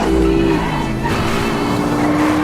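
A McLaren twin-turbo V8 roars at high revs while racing on a Top Gear track map in GTA 5, a loud, continuous engine note with shifting pitch and a hint of tire noise.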